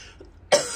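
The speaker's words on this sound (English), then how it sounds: "Sorry about coughing." A single sharp cough bursts out close by, loud and brief, during wallpaper stripping in a smelly room, after a moment of near silence.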